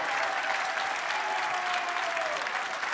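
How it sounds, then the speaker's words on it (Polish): A studio audience applauds steadily at a comedy show, a dense, even wash of clapping from many hands held at the same level throughout with no pauses. "Wielkie brawo!"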